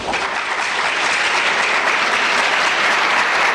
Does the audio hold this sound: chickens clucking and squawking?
no